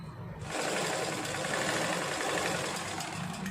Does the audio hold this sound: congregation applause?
no